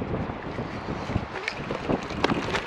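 Wind blows across the microphone during a gravel bike ride, a moderately loud, continuous rushing rumble with uneven gusty swells over a few seconds.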